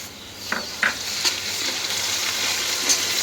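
Cumin paste goes into a hot frying pan for a fish and mango dish, making a soft, steady sizzle broken by a few light scrapes and clinks of a spoon against the pan.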